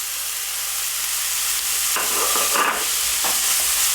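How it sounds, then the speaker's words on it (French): Minced meat and onions stirred in a hot pan, a steady close sizzle and frying hiss with scraping strokes of a utensil rising now and then over the constant crackle. "Je mélange donc à nouveau."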